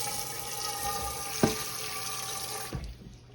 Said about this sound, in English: Let me rinse this skillet out.